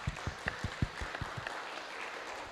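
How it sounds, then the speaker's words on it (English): Conference audience applauding panelists and a moderator, sparse scattered claps at first that soon fade into quiet room tone. "Please give a big round of applause again to all four of our second panelists and to our moderator"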